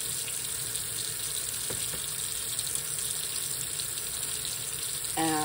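Tap water runs steadily and loudly while a sugar scrub is rinsed under it, a continuous close splashing hiss with a brief change at the very end.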